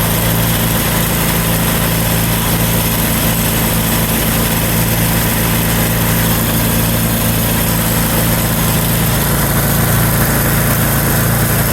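A Craftsman 10/29 snow blower engine roaring at full throttle, loud and close, a steady unbroken mechanical drone with constant vibration and no change in pitch.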